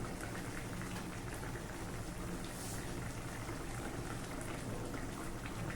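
Okra and tomato gravy curry bubbling in a pan, a soft, steady simmering crackle with a faint, continuous patter and no talking.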